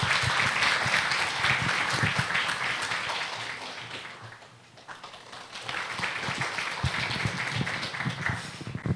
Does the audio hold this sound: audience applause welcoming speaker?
yes